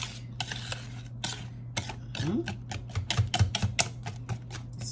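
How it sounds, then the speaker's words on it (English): Whisk beating pecan pie filling with chocolate chips in a bowl, a quick, steady run of close, sharp tapping clicks against the bowl side, carrying on without a break. "Whisk."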